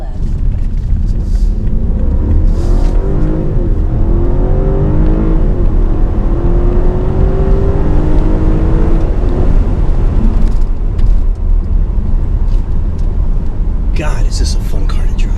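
A 2019 BMW 750Li sedan's engine drones and rumbles steadily from inside the cabin while driving, with gentle rising revs, and a voice is heard talking over it.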